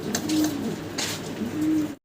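A pair of fancy modern pigeons, a male and a female, give two clear, drawn-out coos close by, with no talk over them.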